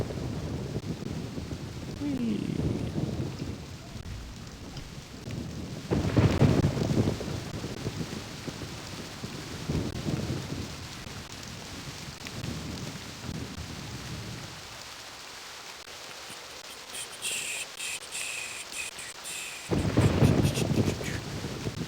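Rain and rolling thunder in the Myst game world, a steady wash of rainfall with several deep thunder rumbles swelling and fading at intervals, moderately quiet overall.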